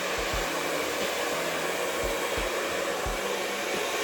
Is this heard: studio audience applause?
no